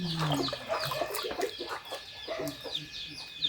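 Several chickens clucking close by, overlapping busy clucks and short calls in quick succession with a faint steady hum behind them.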